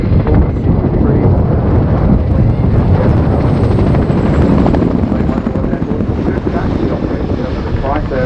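An RAF Boeing Chinook HC.6 tandem-rotor helicopter performs a flying display at RIAT 2019, its loud, dense rotor chop and engine roar filling the clip continuously, buffeted by wind noise.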